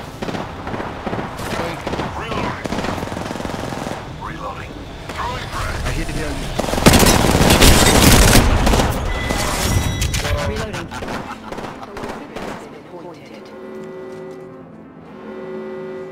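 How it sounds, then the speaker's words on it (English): Gunfire in Apex Legends, with bursts of shots and a loud spell of heavy firing in the middle, set among game sounds and background noise. "I'm taking shots."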